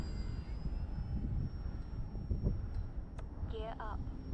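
An E-flite AT-6 Texan radio-controlled model airplane makes passes, its faint engine whine drifting overhead beneath steady outdoor wind noise and a voice talking nearby.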